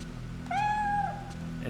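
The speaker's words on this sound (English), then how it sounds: "Just keep on meowing at me, being a taunt." A single drawn-out cat meow, clear and close, over a constant low droning ambience in the horror video game Fatal Frame 3.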